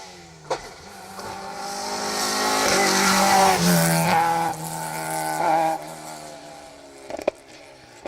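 A rally car powers through a stage of the Down Rally, its engine note rising loudly as it approaches and passes close by, with brief tyre and gravel noise before fading away.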